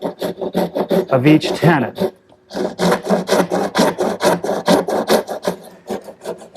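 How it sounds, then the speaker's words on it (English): Dovetail saw cutting shoulders on clamped wooden tenon slats for a Morris chair, a steady back-and-forth rasping stroke repeated about fifteen times, close and loud, with a short pause midway and someone talking briefly over the early strokes. "I'm going to use a dovetailing saw to make a shoulder cut at the top and bottom"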